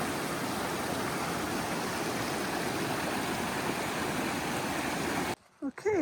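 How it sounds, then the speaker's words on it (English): A small creek high in the mountains of North Cascades National Park, a steady close broadband rush of flowing water that continues evenly, then drops away near the end as a voice briefly speaks. "So there's a very nice little creek all the way up here."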